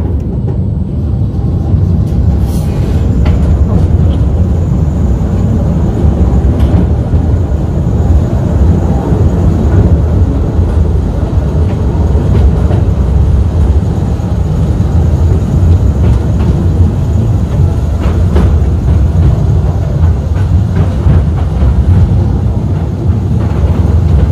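Ride aboard the London Postal Railway museum train in an underground tunnel, a loud, steady rumble of the rail car running continuously on the track with faint rattling throughout.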